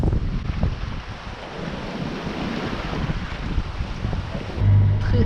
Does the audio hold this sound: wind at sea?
yes